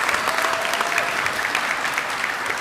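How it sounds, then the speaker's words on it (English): Dense, steady audience applause at a community college commencement ceremony, many people clapping continuously in a large venue, with no speech over it. "Please give them a round of applause."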